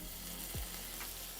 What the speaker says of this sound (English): the vegetables will start to make popping noises